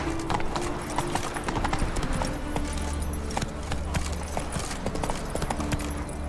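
Roach, Geralt's horse in The Witcher 3 game, trots with a rapid, steady clip-clop of hooves, loud and close, over a dense bed of game ambience with a low rumble.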